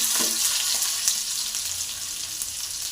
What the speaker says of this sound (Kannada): ಸೈಡಲ್ಲಿ ಫ್ರೈನ ಮಾಡ್ಕೊತಾ ಇದ್ದೀನಿ ಟೊಮೊಟೊನ, ಮತ್ತು ಅದ್ರ ಜೊತೆ ಬೆಳ್ಳುಳ್ಳಿನೂ ಹಾಕಿದ್ದೀನಿ